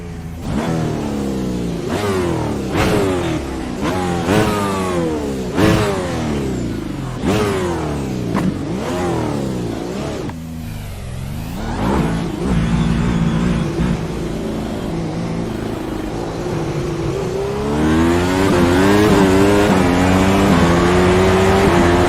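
A Grand Prix race car in the iRacing sim revs hard through repeated rising gear pulls, each climb cut by a shift, loud and close with the engine note sweeping up again and again.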